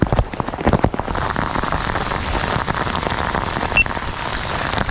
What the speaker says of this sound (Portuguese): E ainda tá chovendo.